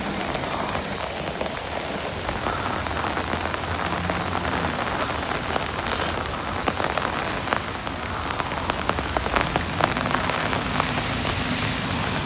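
Heavy rain in a windstorm pours down continuously, a dense, loud wash of drops pattering on surfaces with no pauses and no voices.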